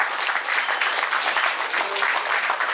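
An audience at a tournament award ceremony applauds steadily and loudly, a dense wash of many hands clapping close by that holds for the whole stretch, with no pause.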